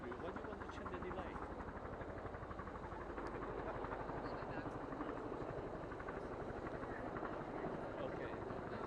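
Press helicopters fly overhead with a continuous loud rotor chop and engine drone throughout, while voices talk beneath the noise.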